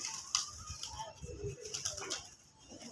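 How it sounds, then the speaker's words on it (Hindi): Pigeons being flown by a handler outdoors, with soft cooing and brief bursts of wing flapping over faint background noise, fairly quiet and intermittent. "एक कबूतर आया देखो"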